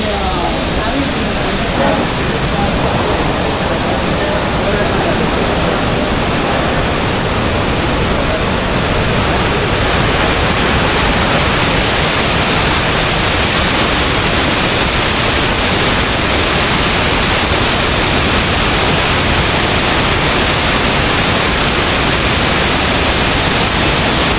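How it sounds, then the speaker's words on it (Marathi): Steady, loud broadband roar of rushing water from a waterfall beside the Shri Dhutpapeshwar temple, continuous and unbroken throughout. "पाण्याचा धबधबा पाहून आता आपण पुढे जाणार आहोत"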